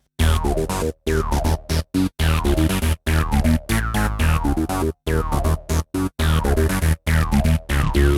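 A looping 90s video-game-style electronic groove with a squelchy resonant acid synth bass line over deep sub bass, punchy rhythmic hits and short gaps between phrases.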